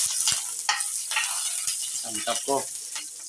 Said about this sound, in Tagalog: kumulo na yung mantika